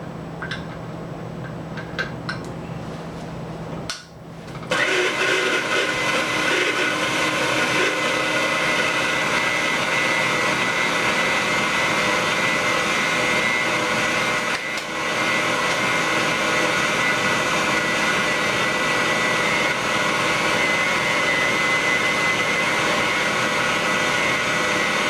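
A hand-cranked pasta machine rolls a sheet of sfoglia dough, starting with a quieter stretch and then becoming a steady, loud mechanical whir with a constant rumble that runs without a break to the end.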